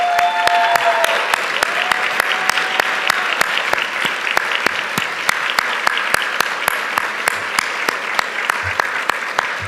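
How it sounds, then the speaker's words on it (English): Sustained audience applause fills a room at an awards banquet, dense steady clapping for nearly ten seconds with no talk over it. "would you join me in a round of applause for their extraordinary contributions?"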